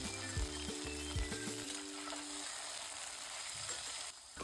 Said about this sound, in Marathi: आता कांदा टाकून परतवायचा आहे.